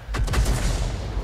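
A 105 leFH18B2 artillery gun fires in a tank video game, giving a deep, loud boom with a rolling low rumble that sustains across the short moment, no talk over it.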